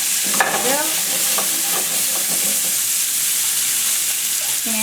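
Shrimp frying in a hot pan with a loud, continuous sizzling hiss that stays steady throughout, close up, with a few faint voice fragments and light utensil movements beneath.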